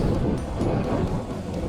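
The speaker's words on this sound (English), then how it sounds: "Rain's setting in again." Rain and strong wind batter a mountain ridge on Helvellyn, a loud continuous rumbling roar of gusts and rainfall, close and unbroken, with no voices.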